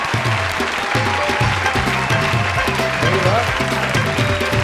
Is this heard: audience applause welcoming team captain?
yes